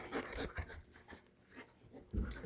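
An eight-month-old puppy panting in quick, soft, uneven breaths close by, ending in a louder, rougher burst.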